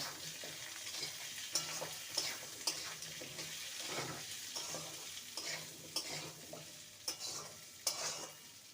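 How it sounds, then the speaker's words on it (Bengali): Radish, carrot and potato chunks stir-fried in a pan: a soft, continuous sizzle broken by sharp, irregular spatula clacks against the metal, close up and without speech. "আগে মূলো গাজর আর আলু দিয়ে দেবো সবজিগুলোকে নেড়ে নেব"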